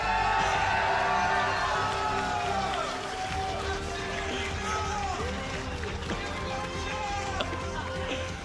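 A large crowd cheers, whoops and hollers at a League of Legends esports semifinal in Nottingham, a loud sustained roar with a voice talking over it.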